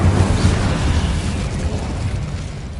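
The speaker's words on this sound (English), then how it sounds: "Accio. Incendio." Incendio fire spell bursting against spiders in Hogwarts Legacy, a loud, booming whoosh of flame that rolls and fades over a few seconds, with no voices.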